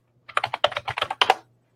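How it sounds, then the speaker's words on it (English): Typing on a computer keyboard, a quick burst of about a dozen close, crisp keystrokes in an uneven rhythm, then a pause before a final short cluster. "I'm actually going to type it so you can look it up."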